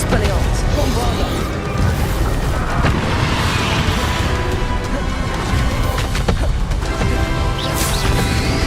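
Bombarda spell blasts in the video game Hogwarts Legacy erupt as loud, continuous crashing booms and debris clatter layered over dense battle noise throughout.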